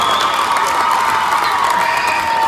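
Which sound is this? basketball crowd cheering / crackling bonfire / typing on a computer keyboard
basketball crowd cheering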